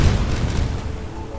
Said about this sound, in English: Need to be careful of this Ifrit exploding all over.